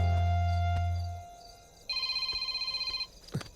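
A phone rings in a family drama scene, with a pulsing electronic ringtone repeating rapidly for about a second after a low hum fades out.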